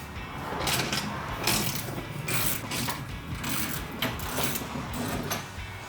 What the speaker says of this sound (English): So we'll take these nuts off using our 11mm socket.